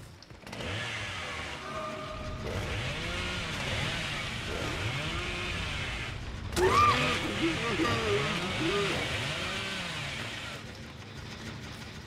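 Engine revving in a horror video game, repeated swelling and falling revs like a chainsaw, moderately loud, with a sharp spike partway through and speech over it.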